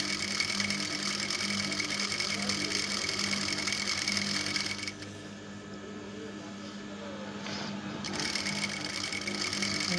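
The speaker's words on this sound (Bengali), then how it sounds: "দেখুন আমি কিভাবে সেলাইটা দিচ্ছি।" A sewing machine runs in a continuous mechanical whir while stitching elastic into a skirt waistband, pausing briefly midway and then starting again, close and moderately loud.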